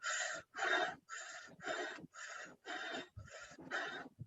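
Eight strong breaths in and out through an O-shaped mouth, close and loud, each a rushing, airy puff with a short pause between, in an even rhythm during a Kundalini yoga session.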